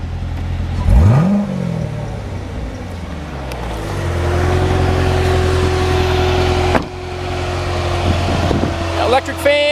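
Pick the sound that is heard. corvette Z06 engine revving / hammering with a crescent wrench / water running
corvette Z06 engine revving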